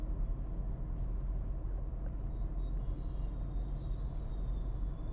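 A Tata Nexon CNG car cruises in sixth gear at around 40 km/h with no accelerator, heard from inside as a steady low road and engine rumble with a faint whine, no voices.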